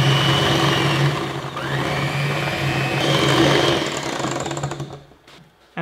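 An electric mixer whirs loudly and steadily through chocolate crepe batter, shifting pitch a little as it works, then cuts off near the end.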